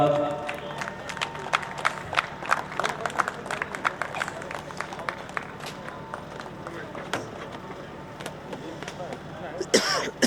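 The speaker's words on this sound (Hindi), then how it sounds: "मुस्कान अपनी ट्रॉफी लेते हुए सामने जोरदार तालियों के साथ" Steady, fairly loud applause from an audience at a prize ceremony as a girl receives her trophy, with dense clapping throughout, a few coughs, and a sharp clatter near the end.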